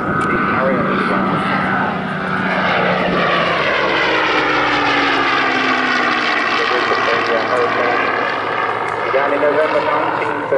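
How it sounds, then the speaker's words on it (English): A Hurricane fighter's piston engine drones overhead at an air show, rising and falling in pitch as it passes, with a commentator talking throughout. "Hurricane was the first British monoplane 8-gun fighter, the first Royal Air Force aircraft to exceed 300 miles an hour in level flight"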